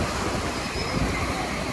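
Waves wash onto a beach at night in a steady, loud roar of surf, blended with wind buffeting the microphone.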